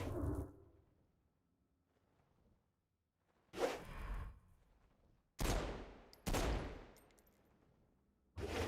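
Gunfire in the video game Saints Row: Gat out of Hell, a few separate sharp bursts with whooshing decays separated by near-silent gaps, fairly faint overall.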